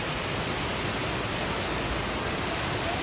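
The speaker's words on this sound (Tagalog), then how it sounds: "Welcome to Pinoy Ann Falls. Wow. Surigao del Sur." Tinuy-an Falls in Surigao del Sur, a waterfall, produces a constant, dense broadband roar of falling water that stays steady and loud throughout, with no voices heard.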